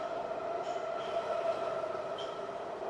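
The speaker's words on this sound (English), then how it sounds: "the trains come in fast and very close to the platform" A Los Angeles subway train rumbles steadily into an underground platform, with a faint high squeal of wheels riding over the constant mechanical roar.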